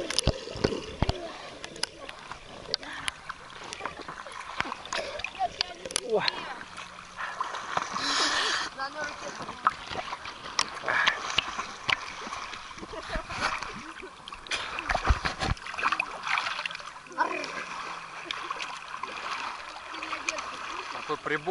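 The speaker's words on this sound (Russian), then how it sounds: "Какой прибой!" Water in an old quarry lake splashes and laps in choppy, irregular bursts up close, a continuous wet churning of surf-like wavelets over the whole stretch.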